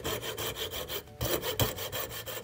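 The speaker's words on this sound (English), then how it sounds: "I'm starting to carefully drill or cut a slot down to that hole following" A hand saw cutting a slot into a wooden mallet handle of walnut, maple or oak, with rhythmic back-and-forth rasping strokes at a quick, even pace, near and fairly quiet, with no one talking.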